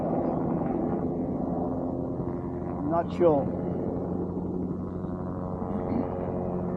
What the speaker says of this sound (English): Sorry about the helicopter noise